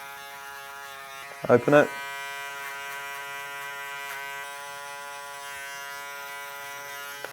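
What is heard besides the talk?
electric hair clippers cutting hair over a comb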